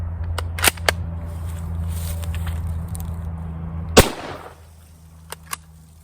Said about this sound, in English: hopefully I will be able to shoot this Yugoslavian ammo from the 1950s before I sink in all the way